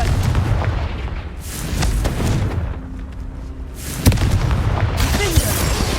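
Booming explosive spell blasts in the video game Hogwarts Legacy, several heavy rumbling impacts with crackling tails, loud and close.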